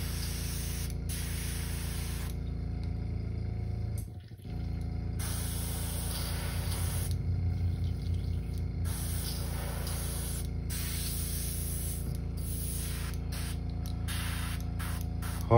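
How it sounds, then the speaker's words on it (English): Airbrush spraying paint while being cleaned out between colors on a custom crankbait fishing lure, a steady close hiss that runs continuously with brief pauses and a short dip midway, no talking. "Clean this out of my airbrush."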